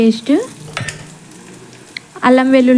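Ginger garlic paste fried for chicken biryani, with a quiet sizzle while a spoon stirs and scrapes the pan in short bursts.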